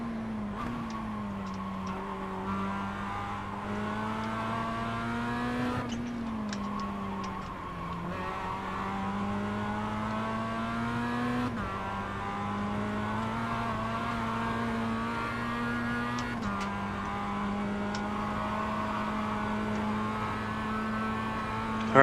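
BMW race car at Summit Point passing on track, its engine droning steadily with repeated rising pitch sweeps as it accelerates through gears, close and continuous with faint squeals.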